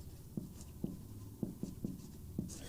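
Writing on a classroom board during a chemistry lesson: a faint series of soft, irregular taps and strokes, about six in under three seconds, close but quiet, with no talking.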